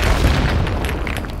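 A grenade explosion in the shooter game BattleBit: a loud, sustained booming blast with heavy low rumble filling the short clip, no talk.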